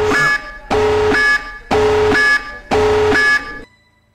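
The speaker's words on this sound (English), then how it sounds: "Oh no, the alarm." An alarm blares in a horror video game: four loud, evenly spaced buzzing blasts, each about half a second long, close and alone.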